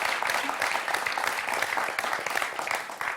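Studio audience applause on a French television quiz show, a dense, steady wash of many hands clapping that fills the room throughout.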